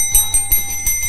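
A battery-powered ghost-hunting dead bell device rings in four quick bright metallic strikes, each with a sustained shimmering tone, close and loud with no talking.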